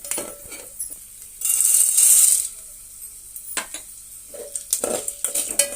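Roasted gram dal frying with peanuts in a pan for a spicy poha mixture: clinking and scraping of a spatula, with one short burst of hissing sizzle, close and fairly quiet.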